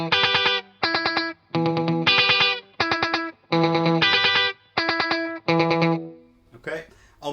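Electric guitar played through an Electro-Harmonix Canyon delay pedal at a short delay time, strummed in tight rhythmic bursts with quick repeats, loud and up close, followed by a brief breathy pause at the end.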